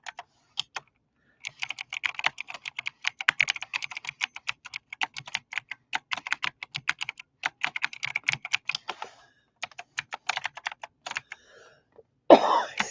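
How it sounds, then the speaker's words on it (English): Fast, rapid typing on a computer keyboard, dense irregular key clicks close to the mic, pausing briefly near the end before a cough. "you hear all that typing. Crazy, crazy typing."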